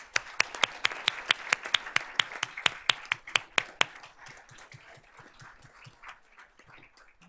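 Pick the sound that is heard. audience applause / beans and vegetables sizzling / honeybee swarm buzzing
audience applause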